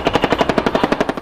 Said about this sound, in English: Cobra attack helicopters engage the targets with a high degree of accuracy, employing cannon, rockets,